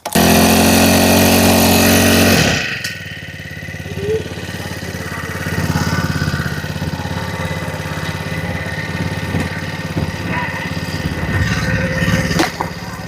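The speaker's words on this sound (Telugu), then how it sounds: "మనమైతే ఇంజన్ స్టార్ట్ చేసాం అనమాట" A four-stroke petrol engine on a low-cost Taiwan farm machine, loud and close, running steadily at first, then cutting to a quieter, even idle that continues to the end.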